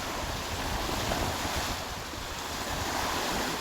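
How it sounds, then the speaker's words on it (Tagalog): Waves wash onto the dolomite sand beach at Manila Bay, a steady, fairly close surf rush mixed with wind buffeting the microphone, with no voices. "parang nagagalit ang alon"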